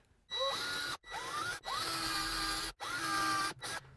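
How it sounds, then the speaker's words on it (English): A power drill whirs in four bursts drilling holes in a wall for a plate, each spinning up with a rising pitch, then stopping between holes; loud and close, no talking. "now I'm gonna drill the holes for the plate."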